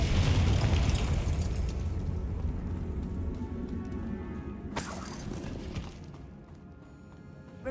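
A Confringo blasting curse in Hogwarts Legacy explodes with a loud rumbling boom, then a crackling, shattering debris wash that fades, with a second sharp burst partway through.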